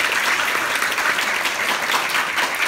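An audience at a graduation live concert applauds in thanks, a thick, continuous roar of many hands clapping at an even, loud level throughout, with a faint murmur of voices underneath.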